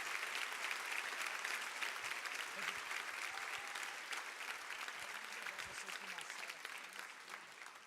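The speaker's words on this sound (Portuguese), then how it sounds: "Vamos aplaudir esses irmãos" A church congregation applauds during a worship service, a dense, steady wash of clapping that holds for several seconds and eases slightly toward the end, with faint voices beneath it.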